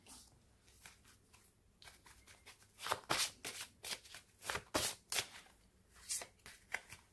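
Oracle cards being shuffled by hand for a card reading: a quiet series of crisp, papery riffling bursts that grow busier and more rhythmic in the second half, with no talking.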